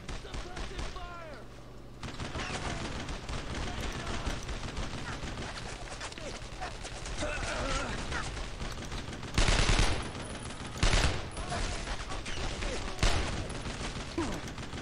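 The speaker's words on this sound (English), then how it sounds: "I need suppressing fire!" A World War II battle in Brothers in Arms: Road to Hill 30 carries suppressing gunfire: a continuous crackle of rifle and machine-gun shots, with louder nearby bursts and distant explosions. Voices call out through the firefight.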